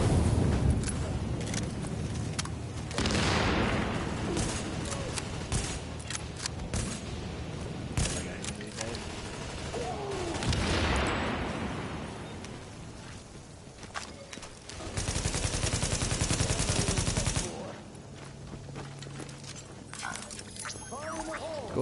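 Bursts of gunfire crackle through the video game The Division, coming in several clustered volleys against busy in-game noise, with players talking over parts of it.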